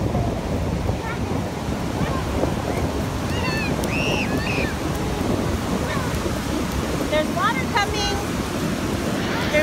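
Ocean waves wash steadily onto a California beach under gusting wind, a continuous loud roar of surf close to the microphone, with a child's and an adult's voices briefly heard over it.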